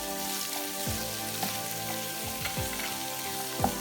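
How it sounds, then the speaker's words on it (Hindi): Green chillies fry with ground spices in a pan over a normal flame, giving a steady close sizzle with occasional stirring scrapes and small pops, no talk. "इसको हम 5 मिनट के लिए मसाले के साथ भूनेंगे नॉर्मल फ्लेम पर"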